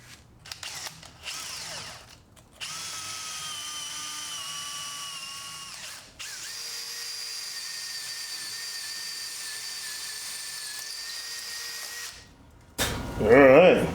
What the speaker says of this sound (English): I'm gonna drill a new hole for the bolt